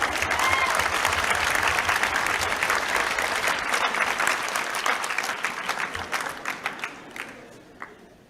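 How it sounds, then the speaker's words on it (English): Graduation ceremony crowd gives a full round of applause that starts strong and dense, gradually tapers off, and ends with a few scattered individual claps. "Give them all a round of applause."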